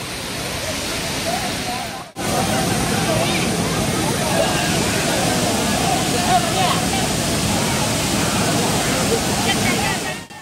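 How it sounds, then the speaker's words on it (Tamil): Strong waterfall near Pollachi pouring with a loud, steady broadband roar from close by, continuous apart from a brief cut early on. "வாட்டர் ஃப்ளோ எவ்வளவு ஸ்பிளெண்டிடா இருக்குன்னு"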